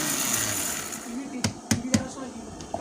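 An electric grinder whirs steadily as it grinds fried biryani spices. Its high, continuous hum is broken by a few sharp knocks and rattles partway through, while people talk nearby.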